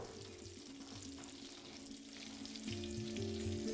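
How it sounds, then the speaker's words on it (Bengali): Bitter gourd fries in hot oil for shukto, a constant close sizzle and crackle that swells slightly louder toward the end, alone without speech. "আর উচ্ছেটাকে আপনাদের হালকা একটু কড়া করেই ভেজে নিতে হবে।"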